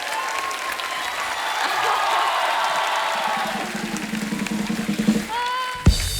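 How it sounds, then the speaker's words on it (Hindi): Loud audience applause and some cheering from a comedy-show studio crowd greet the circus star cast, swelling and then thinning into scattered claps before a brief musical hit. "एक बार जोरदार तालियां हो जाए हमारी सर्कस की स्टार कास्ट के लिए।"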